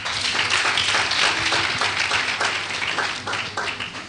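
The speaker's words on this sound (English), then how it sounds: "please clap for yourself." Audience at an elder care aides training graduation ceremony clapping steadily, a dense wash of many hands that stays loud throughout and fades slightly toward the end.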